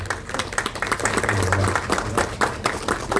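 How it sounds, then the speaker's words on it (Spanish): Clapping from an audience at a book presentation at the Lima book fair, welcoming a historian; irregular, fairly close claps with some voices murmuring underneath. "Un aplauso para el historiador"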